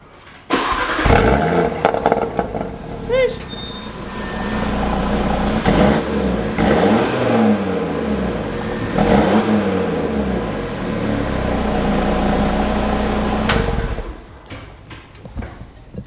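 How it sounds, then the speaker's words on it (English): An Audi RS3 fitted with a new mid pipe cranks and fires up, then revs loudly several times in rising and falling sweeps before settling to idle and shutting off, heard up close. "here we go for a lovely cold start"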